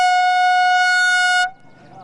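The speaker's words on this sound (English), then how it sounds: "we go out, we sound off an air horn" One long, loud air horn blast on a golf course holds a steady bright tone for about a second and a half, then stops abruptly into faint background noise.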